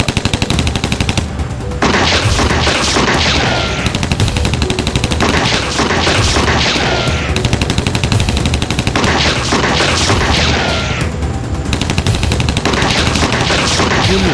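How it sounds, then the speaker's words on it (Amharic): Machine gun fire raining down from a helicopter in an action film, loud sustained rapid bursts that keep going across the scene with brief gaps, over dense rumbling and explosions. "ሄሊኮፕተሩ አሁንም ከበላያቸው ሆኖ ጥይት ማዝነቡ ቀጥሏል።"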